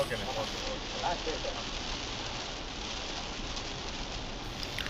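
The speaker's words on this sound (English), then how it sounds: "Finally, it started to rain heavily, and gradually the windshield became more and more clear." Heavy rain pours steadily onto the windshield of a Hyundai Creta, a dense, even hiss with a patter of drops, continuous and close.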